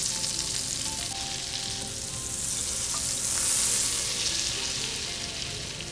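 Butter melting and sizzling in hot oil in a pan for spicy butter garlic prawns, a dense, steady hiss that swells slightly midway and carries on unbroken.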